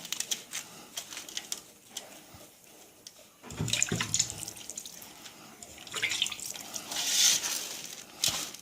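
A kitchen tap runs onto couscous being wetted for douida, a soft hiss at first that swells into a fuller, louder splashing stream for the second half, with faint bird chirps in the background and no talk.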